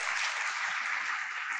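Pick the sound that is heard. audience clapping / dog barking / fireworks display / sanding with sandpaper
audience clapping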